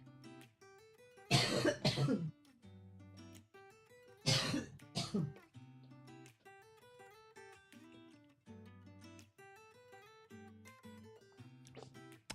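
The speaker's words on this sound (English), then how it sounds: "It's a dry cough." Two harsh, dry coughs, close and loud, breaking over soft background music with quieter gaps between them.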